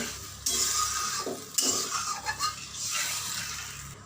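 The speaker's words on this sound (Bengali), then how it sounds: "এবার এর মধ্যে দিয়ে দেবো পরিমাণ মতো উষ্ণ গরম জল দিয়ে ভালো করে মিশিয়ে নেব" Warm water stirred into a frying spice masala in a pan for a pea kofta curry, a sudden burst of sizzle followed by bubbling, sloshing and spoon scrapes on metal, close by.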